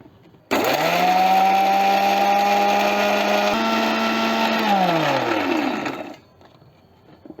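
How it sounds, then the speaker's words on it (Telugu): A kitchen blender grinds banana peels and eggshells into a mash, its loud steady motor whir running for about five seconds before winding down and stopping, with no talking over it. "ఇప్పుడు మనకి ఇందులో banana peels plus egg shells కలిపి కొట్టేసామండి దీన్ని."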